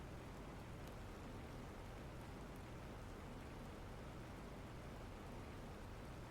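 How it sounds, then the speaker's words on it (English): Steady rainfall in the video game The Planet Crafter: a constant, even hiss of rain that fills the whole stretch, soft and unbroken, with no voices. "It's raining again."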